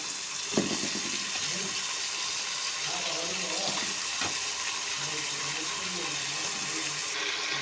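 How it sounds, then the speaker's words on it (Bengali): Water is poured into a cooking pan holding onions, tomato and ground spices for a fish curry, a running, splashing stream heard close up in a home kitchen with faint background noise. "পানি দিয়ে দিচ্ছি"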